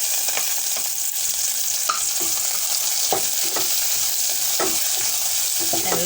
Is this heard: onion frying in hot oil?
yes